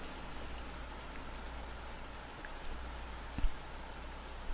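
Steady, even rainfall hisses throughout, with a faint low drone beneath and a single soft knock near the end, in the indie visual novel game Deluge.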